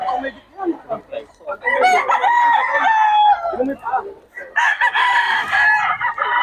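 Chickens and roosters at Bocaue, several close-by crows rising over steady clucking and other bird calls, the crowing overlapping in long drawn-out bursts with brief lulls between them.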